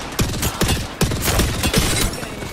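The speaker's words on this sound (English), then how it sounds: "They're shooting at you from this building." Rapid gunfire in an Apex Legends match, a dense run of loud sharp shots repeating in quick bursts for the whole stretch, close and steady with little pause.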